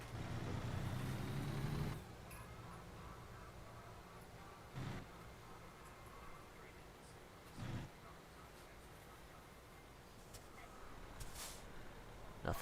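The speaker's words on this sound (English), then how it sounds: "I love the sound of this diesel motor" A diesel truck engine in the American Truck Simulator game rumbles steadily throughout, loudest in the first two seconds before easing to a constant drone, with a few brief thumps and clicks over the top.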